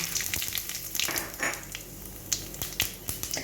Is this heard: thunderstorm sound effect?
no